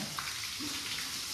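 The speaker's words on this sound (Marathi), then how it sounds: "हे जे पाणी पडते ना, गरम पाणी आहे." Hot spring water at Rajapur's Gangamai pours down in a steady, close rush, a continuous splashing flow at moderate volume with no voices over it.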